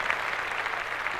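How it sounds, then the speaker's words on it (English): Applause from a studio audience for a special guest arriving on a talk show: a steady, dense wash of clapping for just over a second, fairly close and without voices over it. "Round of applause."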